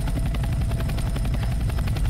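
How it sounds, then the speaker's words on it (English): Helicopter in Roblox Breaking Point: a steady, loud rotor thump with a dense mechanical whine running underneath, continuous throughout. "Hey, come on, get in the helicopter."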